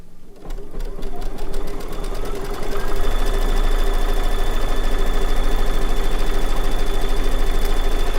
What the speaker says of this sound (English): So let's get that stitched out. It's going to do our placement stitch.